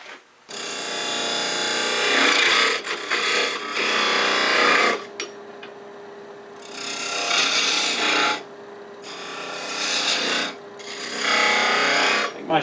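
A skew chisel cuts a V-groove into spinning wood on a lathe, producing loud sustained rasping, scraping bursts of several seconds each, separated by brief pauses, close up with no speech.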